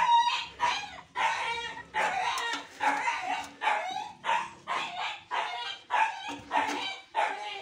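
A large Rhode Island rooster crows repeatedly near a farmyard where eggs are kept, loud rhythmic calls of about a dozen bursts with a dog barking among them and no talking.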